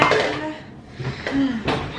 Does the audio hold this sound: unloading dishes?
yes